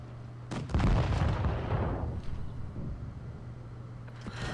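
A P43 bis tank fires its cannon in WOT Blitz: a loud boom with a long rumbling decay over an engine hum, and a fainter second shot near the end.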